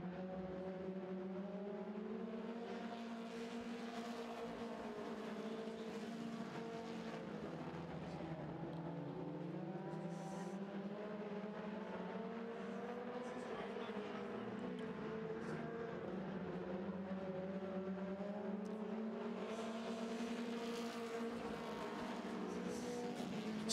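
Mini stock race cars run laps on a dirt track, a distant, continuous engine drone that rises and falls as the pack circles, with no voices over it.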